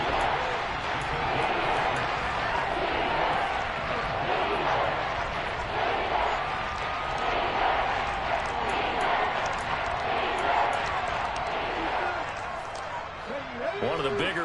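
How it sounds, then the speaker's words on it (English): A stadium crowd in Madden 23 roars and murmurs steadily at a football game, a broad, sustained wash of distant cheering with a commentator talking over it. "the crowd getting into it as we come up on a big third down"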